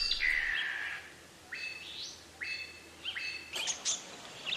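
Several herons from a loose flock of about thirty call in rising, drawn-out squawks, four or five separate cries spaced across the moment, moderately distant against a quiet background.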